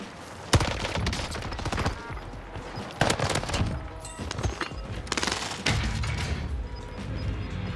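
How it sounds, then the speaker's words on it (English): Bursts of video game gunfire from a console shooter, several loud sharp volleys and rapid shots spread across the moment, with continuous in-game action noise between them. "Who's he shooting at?"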